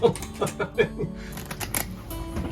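A deck of playing cards is riffled and bridged in a fancy shuffle for a game of Skip-Bo aboard a narrowboat. Quick flurries of crisp card snaps run together, close up, with voices talking over them.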